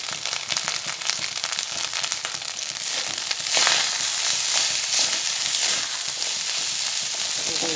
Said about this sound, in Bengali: তেলে ভাতগুলো দিয়ে দিলাম।